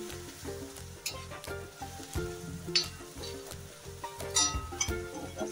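Chopped onion sizzling in a hot pan for a bitter gourd vegetable dish, steady frying crackle with occasional stirring scrapes and light clinks of a spoon against the pan, close and continuous without talk.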